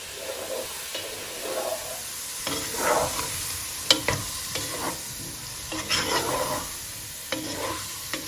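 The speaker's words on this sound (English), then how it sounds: "So I'm just going to, on high heat, kind of fry it for a couple of minutes" Paneer biryani frying in a pan on high heat, a soft steady sizzle broken by repeated scraping stirs and clinks of a spoon, fairly quiet and close.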